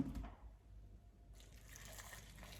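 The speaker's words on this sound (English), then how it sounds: "Boiling water." Boiling water is poured into a soup pot of cauliflower and parsnip with vegetable stock powder, a faint, steady splashing and trickling that continues quietly after a brief initial splash.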